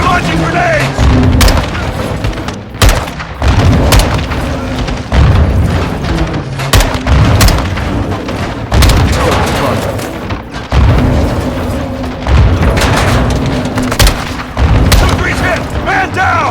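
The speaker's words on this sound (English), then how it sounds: "Incoming! Take cover! They're launching grenades!" Grenade explosions in the video game Modern Warfare 2: repeated loud, booming blasts go off at irregular intervals through a battle, along with gunfire and shouted voices.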